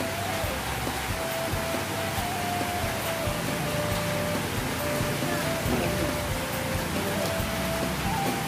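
Rain pours steadily at an Indonesian street food stall serving satay, a dense constant hiss of drops on surfaces with faint tones and background activity beneath it.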